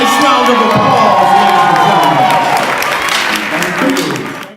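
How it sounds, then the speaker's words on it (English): Audience at an anniversary ceremony event breaking into loud applause with cheering and whoops, a dense wash of clapping that fills the room and fades out at the end. "give them a nice round of applause"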